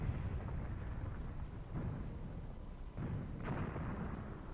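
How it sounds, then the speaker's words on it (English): Preparatory artillery fire in Graviteam Tactics, a dull, continuous rumble of distant shelling with a few heavier thuds standing out from the roar. "I surely hope the preparatory artillery will do some damage here."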